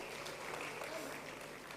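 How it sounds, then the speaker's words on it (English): Guests at a formal birthday dinner applaud in a faint, steady wash of distant clapping across the whole moment. "Round of applause."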